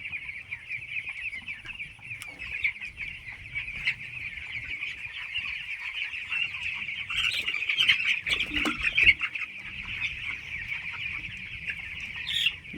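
Fifteen-day-old farmed poultry birds raised on sand litter chirp and peep continuously in a dense, shrill chorus, with a few louder squawks and flutters mid-way.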